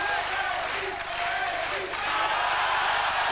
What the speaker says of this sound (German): Sie hören den Sprechchor.